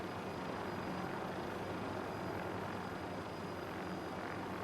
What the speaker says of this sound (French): Vous m'entendez dans l'hélico?